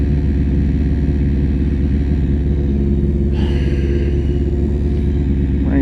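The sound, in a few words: 2001 Kawasaki Ninja ZX7R motorcycle engine idling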